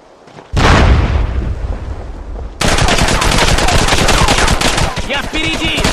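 Grenade explosion and gunfire in the SOCOM video game, a sudden loud blast with a rumbling decay, followed by dense rapid bursts of automatic gunfire continuing to the end.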